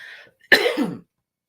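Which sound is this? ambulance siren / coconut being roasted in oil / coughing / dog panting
coughing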